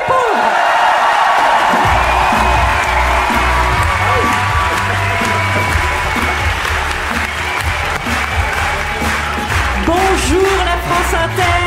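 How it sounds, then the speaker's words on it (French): A studio audience at a live public radio broadcast breaks into loud, sustained applause with whoops and cheers, the crowd noise filling the room close and continuous, with voices calling out over it. "ils vont nous faire un tonnerre d'applaudissements"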